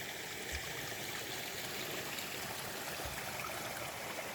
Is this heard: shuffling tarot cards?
no